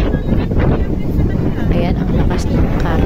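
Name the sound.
strong wind at Boracay keyhole rock formation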